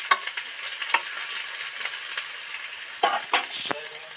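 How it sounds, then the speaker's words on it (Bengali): Chopped onion fries in oil with a bay leaf for egg chili, producing a bright, steady sizzle with intermittent scraping bursts as it is stirred, close and clear with no speech. "পেঁয়াজ কুচিটা এর মধ্যে দিয়ে দিচ্ছি"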